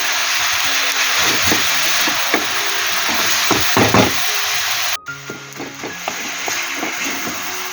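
Grated coconut cooking with jaggery in a pan, a steady sizzling hiss with scraping and stirring knocks of a spatula, briefly cut off then resuming at a quieter level.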